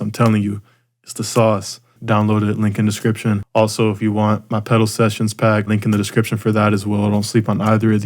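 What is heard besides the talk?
No everyday noises stand out.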